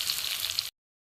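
Potatoes frying in a pan with spices while cooking a botboti dhokar dalna: a soft, steady sizzle that lasts under a second and then cuts to silence.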